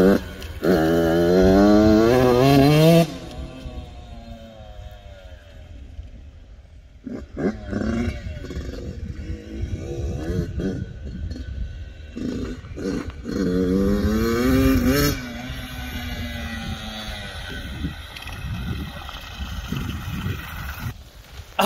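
A Yamaha YZ85 dirt bike engine revs up and down in bursts, a loud rising two-stroke whine alternating with rougher idling and brief lulls over about twenty seconds, heard nearby and outdoors.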